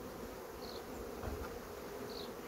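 A crowded honey bee colony buzzes at the hive in a dense, continuous hum, with a few individual bees passing close and no talk.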